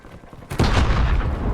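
Gunfire erupts in a video game after a short quiet moment, a loud close burst followed by sustained rapid shots and booming that continue to the end.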